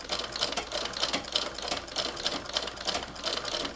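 An 1891 White VS treadle sewing machine sews through leather with a quick, even rattle of needle strokes, close and clear, repeating about every third of a second with no talk.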